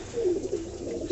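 Pet pigeons coo steadily at close range, a soft, low, continuous burble while their keeper feeds them by hand to build a bond with them.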